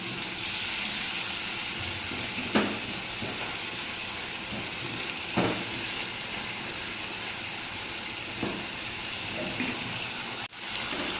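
Ginger and chilli paste fry in oil for a vegetarian potato and paneer curry, giving a steady hissing sizzle that carries on throughout, with a few soft knocks and stirring scrapes in the pan.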